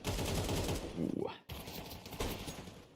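Pistol fire in a competitive video game match, rapid shots rattling in a quick burst near the middle of the clip, mixed under continuous crowd and commentary noise.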